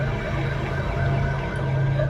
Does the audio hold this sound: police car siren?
yes